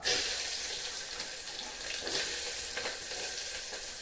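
Onions and chillies frying in hot oil for toor dal sambar, a dense, steady sizzle with a bright hiss, close and constant, with no voices.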